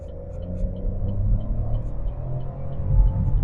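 A Chevrolet Onix RS engine revs up to 6000 rpm and holds there, a steady loud rumble heard from inside the cabin, rising again near the end.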